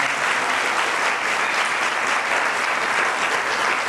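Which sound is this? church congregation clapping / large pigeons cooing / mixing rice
church congregation clapping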